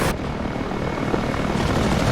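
A Mi-8 helicopter in the DCS flight combat game, a steady loud rotor and turbine roar that holds constant through a short stretch, no speech.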